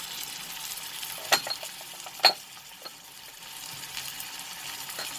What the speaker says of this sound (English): I will saute this for some time